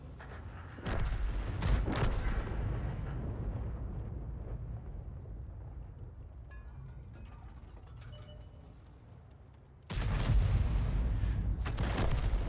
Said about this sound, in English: And that was a kill shot.